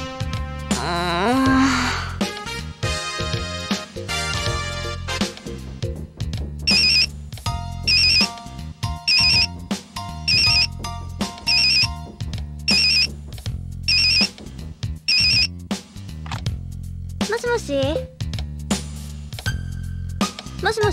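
A telephone rings in a repeated pattern of bright, loud electronic trills, each burst separated by short pauses, against a melodic music background with no speech.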